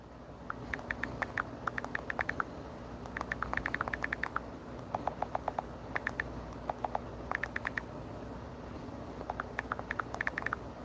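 Rapid bursts of computer keyboard typing, quick clicky keystrokes in short clusters separated by brief pauses, close and moderately loud over a quiet room.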